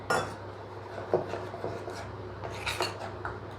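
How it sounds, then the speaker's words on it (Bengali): Banana malpua batter being beaten in a bowl, with scraping, clinking strokes of the utensil against the bowl in an uneven rhythm, close and moderately quiet over a steady low hum. "সমস্ত উপকরণ দেওয়া হয়ে গেলে এবার এই ব্যাটারটাকে একটু ফেটিয়ে নিতে হবে"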